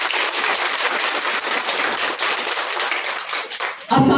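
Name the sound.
audience applause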